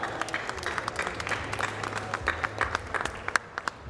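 Audience at an open house welcome event applauds, with a steady wash of moderate clapping from a crowd and a few sharper individual claps standing out near the end.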